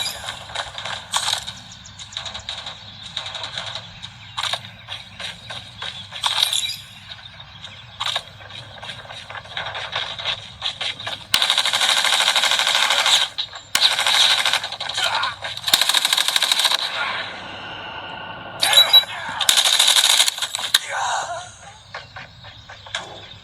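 Rapid bursts of automatic gunfire in Call of Duty Mobile, played on a Redmi Note 15 Pro 5G at 90 FPS, come loud and close in repeated stuttering volleys separated by short mechanical clicks and pauses.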